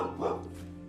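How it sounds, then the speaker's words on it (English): A pet dog indoors gives a single short bark in the background, faint and brief, with a low household hum underneath. "As you guys could probably hear my dog in the background hears something going on."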